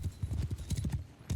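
Horse archers' hooves in Mount & Blade II: Bannerlord give a quick, rhythmic clip-clop of galloping horses, faint and close-knit, with a brief whinny-like tone above the beats.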